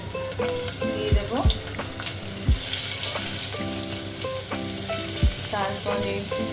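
Chopped onions hit hot oil in a pan for aloo paratha and sizzle loudly and steadily, with a few sharp clinks of a spoon or spatula against the pan.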